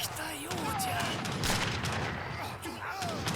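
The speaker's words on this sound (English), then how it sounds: "just regular shooting with light infantry" Light infantry musket volleys crackle in a real-time strategy battle in Age of Empires 3, a steady stream of overlapping shots and booms under a caster's continuous commentary.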